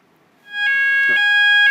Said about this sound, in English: So this is the typical fire alarm tone